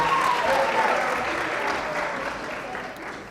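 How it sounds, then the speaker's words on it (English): An audience at a college royal court speech and debate event gives a round of applause, a broad wash of many hands clapping that fades slightly toward the end. "Let's give another round of applause for our Mr."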